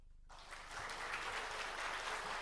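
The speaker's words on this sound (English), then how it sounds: "give me a cheer if you really liked the session" A live training-session audience breaks into applause and cheering, starting abruptly and swelling into a dense, steady wash of clapping that sounds somewhat distant and soft.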